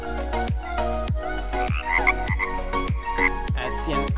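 A toy frog figure croaks in a quick, regular series of clicking pulses, loud and close, with a faint chirping tone layered in and nobody speaking.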